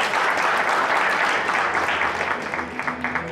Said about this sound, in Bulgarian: Аплодисменти за двамата бойци.